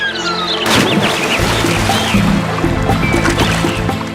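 A horse carrying sacks slips into water, a burst of heavy splashing and gurgling that churns on loudly for several seconds, mixed with a tonal music bed underneath.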